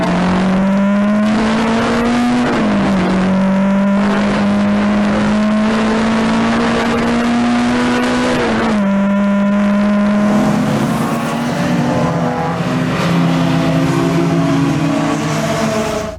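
Saloon race cars, including BMWs, race at Mallory Park circuit with a loud, continuous engine howl that climbs in pitch and then drops sharply at each gear change, several cars overlapping at close range.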